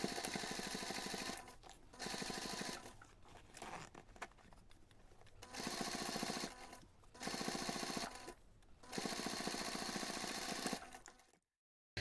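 A sewing machine stitches a fabric seam for a hidden zipper pocket, running in steady whirring bursts broken by several short pauses before stopping abruptly at the end.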